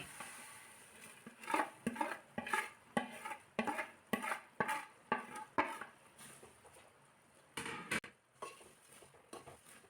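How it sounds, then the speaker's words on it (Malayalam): Flattened rice (aval) being stirred into jaggery syrup with grated coconut in a pan over low heat, giving repeated scraping, scooping strokes in a steady rhythm with faint sizzling underneath, close and moderately quiet, with no talking. "ചെറിയ തീയിലിട്ട് അവൽ നല്ലതുപോലെ ഇളക്കി കൊടുത്ത്"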